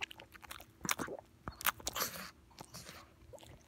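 A dog chews and bites on a treat up close, making a run of wet crunching and smacking bursts in an irregular rhythm, with brief quiet pauses between bites.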